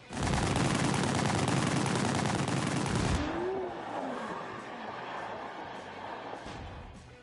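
Pistol gunfire in The Grand Tour driving video game, a loud dense burst of shots and noise for about three seconds, then dropping to quieter background rumble with voices.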